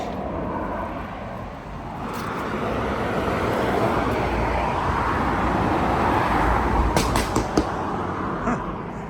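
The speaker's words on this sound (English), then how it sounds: "Interesting sounding car." A car passes on a road near a bridge, its broadband roar swelling as it approaches and peaks, then receding amid steady traffic noise outdoors.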